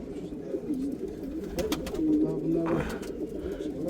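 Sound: Zabıta Mehmet pigeons cooing

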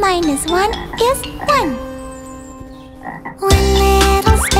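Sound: cartoon frog croaking

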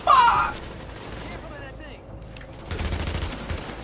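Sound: gunfire from video game The Division

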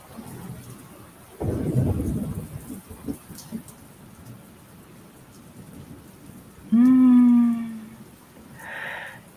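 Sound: thunderstorm with rain and thunder

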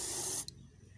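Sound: spray can spraying rust protection on cut car door

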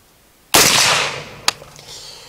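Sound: K1A submachine gun firing with suppressor

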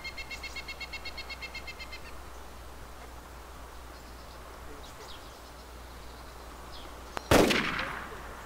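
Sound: gunshots in a video game

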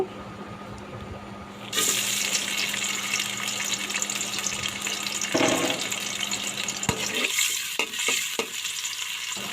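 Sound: chopped onion frying in hot oil

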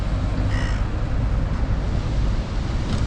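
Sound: crows cawing

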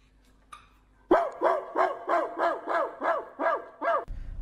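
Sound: barking into a tube at a dog, dog reacting

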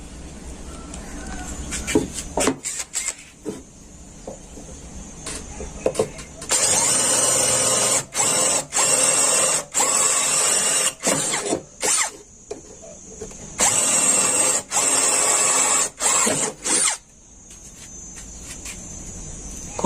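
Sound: cordless drill drilling

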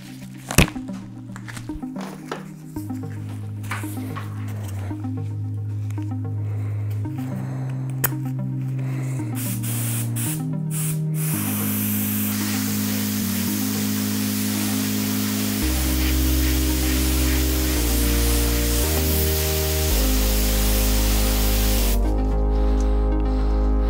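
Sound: spray painting thin layers onto tire decals

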